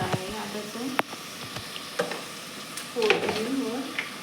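Homemade poli masala tipped into hot tempering oil sizzles and fries steadily while a spoon stirs with sharp clinks, and a person talks over the cooking nearby.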